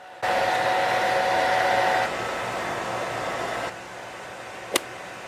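A handheld hair dryer set to medium speed and high heat blows a steady, loud airy roar that eases slightly partway through, with a brief sharp click near the end.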